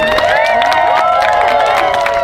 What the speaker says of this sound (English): can we give Malia a round of applause?